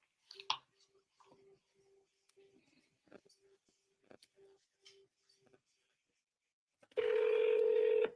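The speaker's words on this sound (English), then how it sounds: "Let me make this phone call." A telephone call is dialed with a run of short tones in an irregular rhythm, followed by a loud, steady ringback tone near the end.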